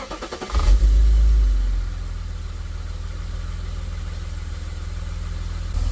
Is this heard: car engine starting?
yes